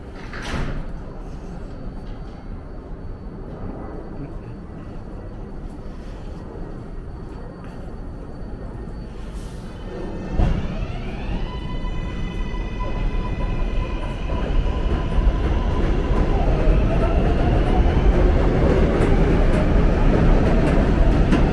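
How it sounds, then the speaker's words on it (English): Steady rumble of a Manhattan-bound 7 local subway train on elevated track in Queens, with clattering wheels and rising motor whine as it picks up speed after the doors close. "This is a Manhattan-bound 7 local train."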